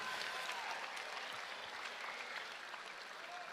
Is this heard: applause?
yes